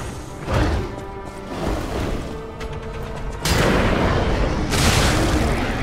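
Artillery fire in the video game Lies of P: heavy booming thuds and blasts over a dense, noisy game mix, with sharper, louder bursts partway through and near the end.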